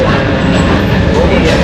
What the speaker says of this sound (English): Okay, we're on the train now.